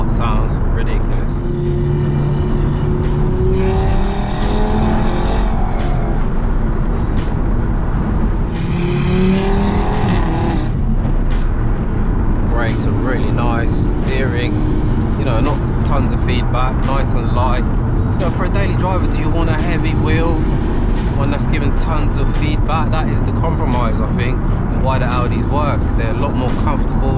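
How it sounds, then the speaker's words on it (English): A stage 2 Audi RS3 drives at night, its engine loud and continuous from inside the cabin with rising and falling revs, under someone talking throughout. "Wow, this car sounds ridiculous."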